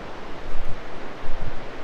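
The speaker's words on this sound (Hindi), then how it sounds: "कलकल करती नदियों की आवाज़।" Rushing Himalayan river flowing below Deurali on the Annapurna Base Camp trek; a close, dense wash of water noise with gusty surges, steady and without voices.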